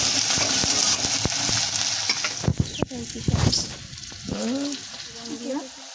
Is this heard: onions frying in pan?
yes